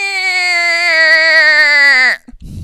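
Voice imitates car fenders squeaking as their paint rubs together, a single sustained high-pitched squeal lasting about two seconds that slowly bends down in pitch before stopping abruptly.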